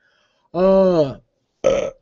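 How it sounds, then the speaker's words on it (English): Two loud, close burps from a man on a live stream, a long voiced one followed by a shorter, rougher one after a brief pause. "I'm burping on everybody here"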